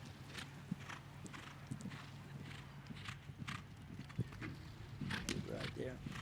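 Hooves of a show jumping horse at the 2017 Great American Million jump-off clip-clop in a quick rhythm on the arena footing, fairly close, while commentators talk over them.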